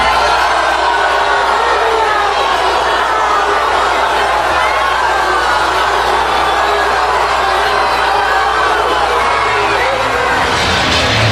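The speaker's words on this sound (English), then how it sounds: "The booing went on for over 20 seconds." Large convention crowd at the Democratic National Convention booing Bernie Sanders as he mentions Hillary Clinton, a dense, loud, sustained roar of voices that holds steady throughout.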